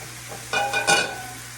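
Peppers and onions go back into a skillet with steak and are stirred, producing a couple of brief close scrapes over a soft, steady sizzle.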